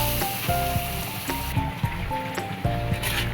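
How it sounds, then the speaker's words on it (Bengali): Spice paste of garlic, chili powder, salt and turmeric frying in a pan with a splash of water, giving a steady close sizzle with some brief tonal sounds in the background. "তাতে একটু জল দিয়ে দিয়েছি মশলাটা ভালো করে কষিয়ে নেব"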